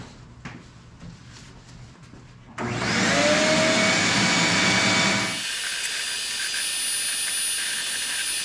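A vacuum cleaner sucks dust off an old 90s totem object, following a few soft clicks and knocks. It switches on loud with a rushing whoosh, then settles into a steadier, slightly quieter whine.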